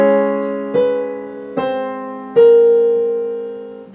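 Piano playing a measure of Rachmaninov's Piano Concerto No. 2, Adagio Sostenuto: four struck chords in slow succession over held low notes, each ringing and decaying, close and clear.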